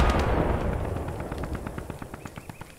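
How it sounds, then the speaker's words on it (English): A grenade blast in Post Scriptum, the Arnhem bridge battle, lands loud and close, its boom decaying into a rattle of scattered gunfire pops. "Grenade!"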